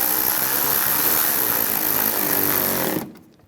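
A power tool drives the fog light mounting fasteners on a 2011-2019 Ford Explorer, giving a loud, steady close-up buzz for about three seconds before cutting off abruptly.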